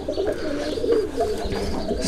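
Pigeons of a newly brought breed cooing steadily in a dovecote, several soft overlapping coos close by with faint background chirps.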